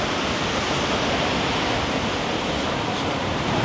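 Large ocean waves breaking on a surf beach at Da Nang, Vietnam, form a continuous, loud, dense roar of wash and rumble with no distinct pauses and no voices.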